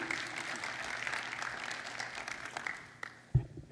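Audience applause at a global business forum greets a speaker about to give welcoming remarks, a steady dense clapping that fades near the end, followed by a brief thump.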